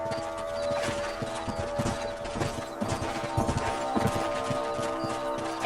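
Steady clip-clop of horse hooves plodding along at a walking rhythm in Red Dead Redemption, mixed with a busy, dense game soundtrack and ambient noise.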